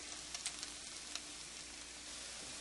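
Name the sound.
egg frying in a pan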